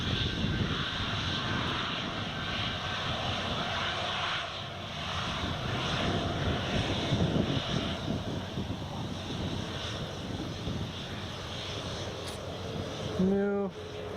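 A Ryanair jet airliner holding for takeoff at Newcastle Airport in crosswind conditions, its engines a steady loud whine and roar that persists throughout, with a brief clunk near the end.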